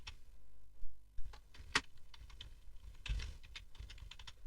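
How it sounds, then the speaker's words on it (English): Quiet keystrokes tapped on a computer keyboard while entering an AWS command, an irregular run of light clicks with brief pauses between bursts. "I want to go ahead and type the aws.configure"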